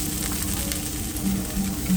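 Steady, close sizzling and crackling of pork and vegetables cooking on a hot oiled pan, continuous throughout with no voices.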